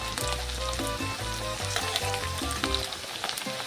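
Onion, green chilies and dried red chilies fry in hot oil and are stirred with a spatula, giving a steady close sizzle with scattered scraping and clinking.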